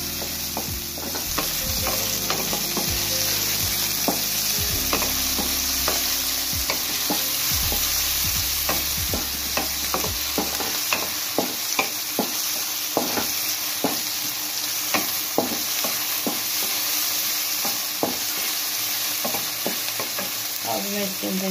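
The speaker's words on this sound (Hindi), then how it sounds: "दो मिनट में इसको भूनूंगी।" Chicken pakora karahi stir-fried in a pan, with steady close sizzling and frying crackle, repeated scraping and stirring clicks, and low tonal background sounds in the first half.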